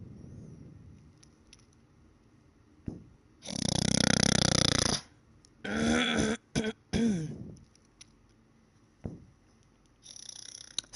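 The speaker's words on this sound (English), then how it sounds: "I had to clear my throat" A person clears their throat with two bursts of harsh, rasping noise, the first long and the second broken into short pieces, up close and loud against a quiet room with no talking.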